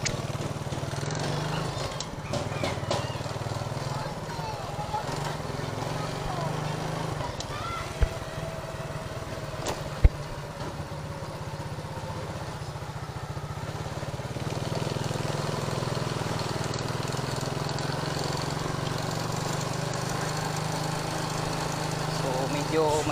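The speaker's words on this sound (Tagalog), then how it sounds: "medyo maingay ang motor natin" A motorcycle engine with a fault runs continuously with a loud, rough low drone and rattling mechanical noise, heard up close while a person talks over it.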